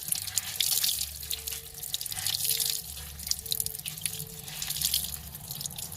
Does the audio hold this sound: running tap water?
yes